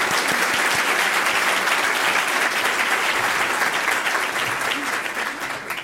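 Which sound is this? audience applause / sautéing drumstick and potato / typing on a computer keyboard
audience applause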